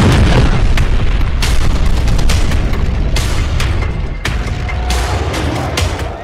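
A drone strike explosion hits a target in Tel Aviv, heard as a loud, dense roar of booms and sharp cracks that rumbles on without pause, with no talk.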